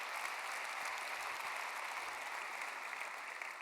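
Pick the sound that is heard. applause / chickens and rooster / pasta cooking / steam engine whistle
applause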